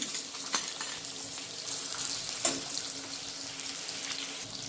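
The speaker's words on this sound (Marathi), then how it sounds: "तर आता कांदा फ्राय करून घेऊया आपण आधी" Onion fries in hot oil as the base for veg pulao, a faint hissing sizzle with a couple of brief clinks or stirs, close but quiet, nobody talking.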